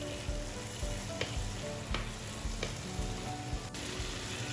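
Tomatoes and pepper sautéing in a pan for ginisang upo with spicy sardines, giving a steady close sizzle with soft scrapes and stirring knocks coming every second or so, and no one talking.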